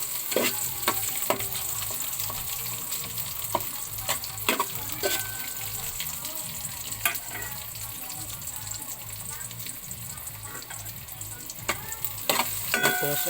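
Garlic and onion frying in a pan, a steady sizzle with intermittent stirring clatter and scraping throughout, plus faint background voices and water-like noise.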